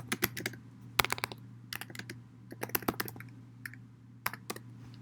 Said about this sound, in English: So I'm going to type that here.